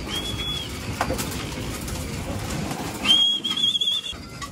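Pigeons cooing and calling while they feed, heard up close as soft coos mixed with thin whistling notes, set against a rustling outdoor background without speech.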